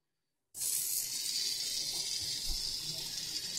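Banana waffle batter with chunky banana pieces pours onto a hot waffle iron, a steady close hiss and gush starting abruptly after a short silence and continuing evenly.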